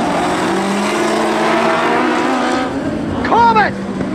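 Compact speedcars race at Carina Speedway, their engines a loud continuous roar with a brief rising whine or tire squeal near the end, under a commentator's voice.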